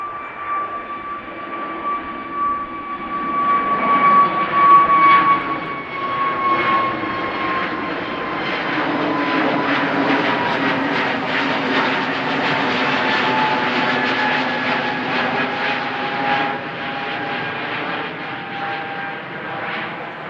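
An Airbus A320neo jet departs Amsterdam Schiphol, its engines producing a distinct whining drone with falling tones that swells to a moderately loud roar and then holds steady as it passes.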